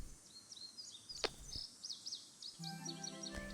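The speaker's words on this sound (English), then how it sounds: "I hear lots of... I hear birds." Repeated high chirping birdsong from the Nancy Drew video game Ghost Dogs of Moon Lake, faint and airy against a quiet outdoor ambience, with a few short sharp clicks and a low hum entering near the end.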